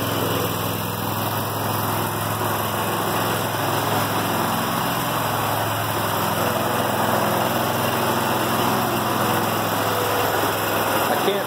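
A Walker riding lawn mower engine runs steadily at close range as the machine is driven out of a tight spot in a showroom, producing an even, continuous drone with no speech.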